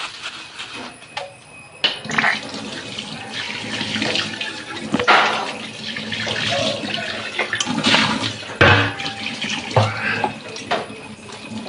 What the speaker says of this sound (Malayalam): ഒന്ന് കഴുകി കാണിക്കാം കേട്ടോ